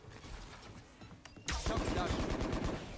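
Rapid gunfire from a Valorant esports grand final, Sentinels vs FaZe, with pistols against SMGs: a sharp burst begins midway and continues as a dense, loud rattle of shots after a quieter opening.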